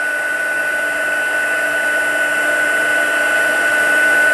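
A heat embossing tool blows hot air over a paper card, a steady, loud, close whirring hiss that holds without a break and swells slightly toward the end, with no talking.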